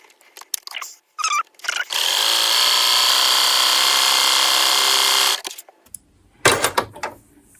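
A sewing machine runs a stretch stitch along a child's sleeve hem, adding a decorative second row. Brief handling knocks come first, then a loud, steady whirring run of about three seconds, followed by a few more clicks.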